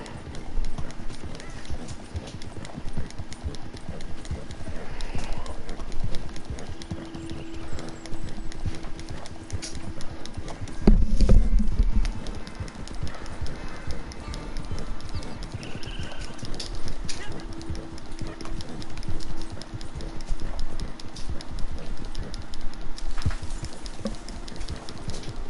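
Horse hooves in the video game Red Dead Redemption 2 clatter in a steady fast clip-clop throughout, mid-loud, mixed with game sounds and someone talking over them.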